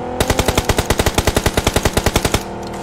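Rapid automatic gunfire in a VR shooter game, a single sustained burst of about twenty evenly spaced loud shots lasting a couple of seconds, then cut off, with no voices.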